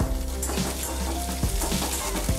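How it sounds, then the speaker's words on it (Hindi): Chopped onion frying in oil makes a loud, dense crackling sizzle, close up, with a few soft stirring knocks. "फिर मैं ये जो ऑनियन कट करके रखा इसको ऑयल में फ्राई कर लेंगे।"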